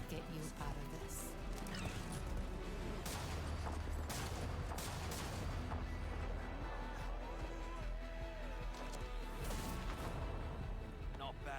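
Gunfire and explosions from an Apex Legends cinematic trailer, dense rattling bursts and booms running continuously at close range, mixed with music and background action, with speech present in places.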